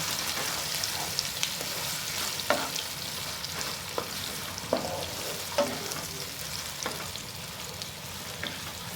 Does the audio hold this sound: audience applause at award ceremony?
no